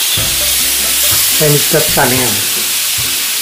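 Fish sears in a hot pan with a steady frying sizzle throughout, close and moderately loud, while a person speaks briefly over it.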